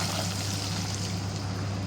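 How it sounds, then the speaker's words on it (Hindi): Water pouring steadily into a pan of frying rohu fish for a mustard fish curry gravy, a continuous close trickle and splash over a low, even kitchen hum. "इसमें डलेगा पानी"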